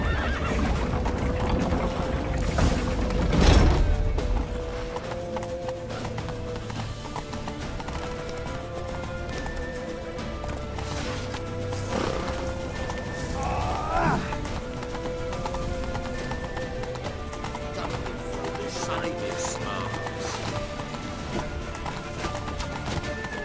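Horse hooves pound in a steady galloping rhythm during a chase in The Witcher 3, with a horse whinnying, shouted voices and a music score layered on top.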